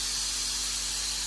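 Pressure cooker releasing steam in a home kitchen, a single continuous sharp hiss heard close and loud for about a second, without speech.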